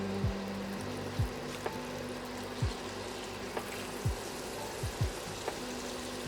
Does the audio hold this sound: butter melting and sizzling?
yes